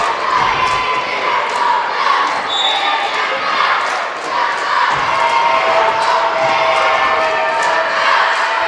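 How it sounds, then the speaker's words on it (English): Loud, dense crowd cheering and shouting fills a gym at a Class 1A boys basketball semifinal between middle school teams, a steady roar with rising yells and scattered ball bounces throughout. "Great crowd on hand here tonight."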